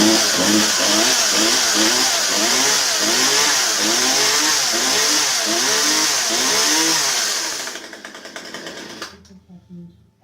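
A Poulan Pro 222 38cc chainsaw runs loud and close with a buzzing, warbling two-stroke drone that surges unevenly, then drops away and cuts off near the end.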